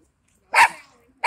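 A single loud, close German shepherd bark, followed by the start of another bark.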